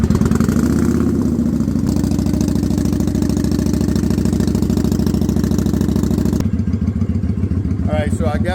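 A motorcycle engine runs at a steady, loud idle just after a cold start, a continuous low throbbing rumble that roughens near the end, with people talking over it.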